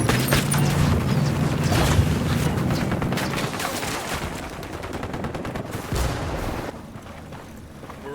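Rapid automatic gunfire in a Ghost Recon Wildlands firefight, dense bursts of shots with booming impacts, loud and continuous before thinning out toward the end.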